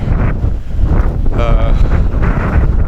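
Cold, blustery wind buffets the microphone on a snowy winter mountain walk up Schiehallion, a loud, continuous low rumble with gusts, heard close.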